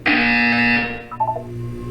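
A harsh, loud electronic buzzer sounds in a Portal 2 test chamber during a co-op game, a sustained blaring tone that fades after about a second into lower mechanical tones.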